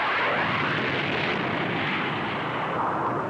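A Skyhawk jet aircraft flying over mountain and wilderness, a loud, steady roaring rush of engine noise filling the whole stretch without speech.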